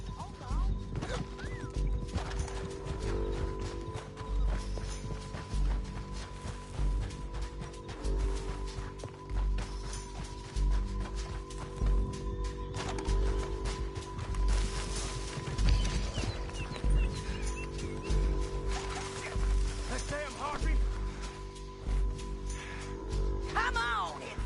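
Horses in Red Dead Redemption 2 clop along with steady hoofbeats, joined by occasional whinnies and thuds, while players keep talking over the continuous in-game riding noise.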